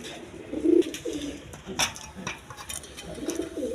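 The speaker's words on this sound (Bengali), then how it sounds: "এখানে এক পেয়ার বোম্বাই পেয়ার কবুতর আছে" A pair of Bombay pigeons coo at a pigeon farm, low throaty coos repeating over a busy background with light clattering, a sharp click and faint distant noise.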